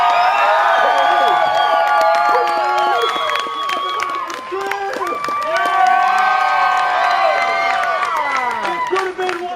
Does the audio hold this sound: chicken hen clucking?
no